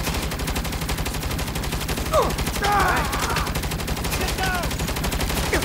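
Rapid turret gunfire rattles continuously through a Saints Row video game firefight, with dense overlapping bursts, loud and close, while a voice shouts briefly over the shooting.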